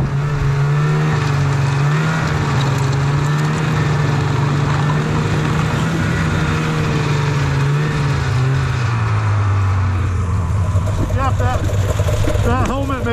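A snowmobile engine drones loud and close on a frozen lake during an ice fishing outing, holding a steady revving roar that shifts pitch near the end, with voices over it.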